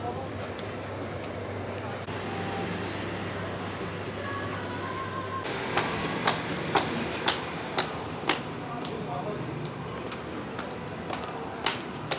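Ambient hum of a subway station at Jongno 3-ga in Seoul, with a low steady rumble that drops off partway through, followed by a series of sharp clicks and clacks in a reverberant space.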